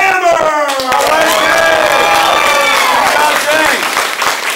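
Applause and cheering from an audience at a martial arts belt ceremony, steady clapping with shouting voices over it throughout, loud and close.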